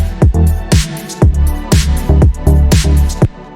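Deep house groove built with the SynthMaster One synthesizer: punchy four-on-the-floor kick drums pumping under chopped synth chords and bright off-beat hits, loud and dense with a steady danceable rhythm and no voices.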